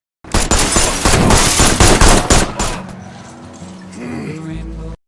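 Rapid bursts of gunfire crackle loudly for about two seconds, then stop, leaving a low rumbling hum and a faint tone behind.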